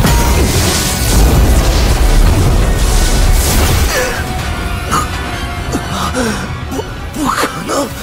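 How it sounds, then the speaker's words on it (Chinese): An animated Chinese fantasy series stages an air raid: heavy, loud explosions and booming rumbles fill the first half, then give way to scattered debris, crackles and fainter impacts. "空袭！"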